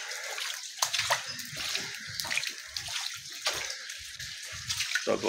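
Rainwater fills a muddy village street in Azad Kashmir after heavy rain, with close splashing and sloshing, as of steps or movement through shallow water.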